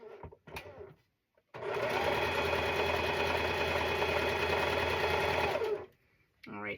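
A sewing machine runs in one steady, loud burst for about four seconds, stitching a quilt block corner to corner on a Halloween and cat quilt, with brief talk just before and after.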